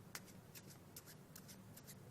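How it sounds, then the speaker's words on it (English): A deck of playing cards being shuffled by hand, quiet rhythmic riffling flicks repeating close by with no talk. "this is a very logical thing to do, and immediately to do a shuffle"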